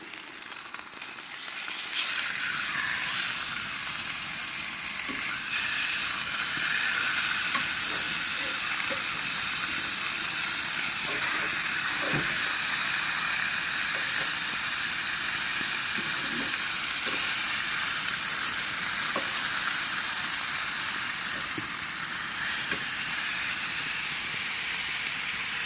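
Marinated steaks sizzle loudly in a pan on a camp stove after a flip, a dense continuous hiss and crackle with faint scraping, steady and close for the whole stretch.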